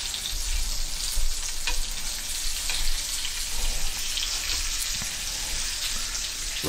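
A steak sizzles loudly in a frying pan as it is basted with spoonfuls of butter and thyme, a dense, continuous close crackle with spoon-stirring scrapes and no talking.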